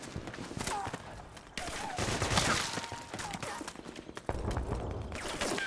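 Rapid bursts of gunfire from the video game Metal Gear Solid 4, dense and sustained with sharp reports layered over one another, while voices shout in the middle of the action.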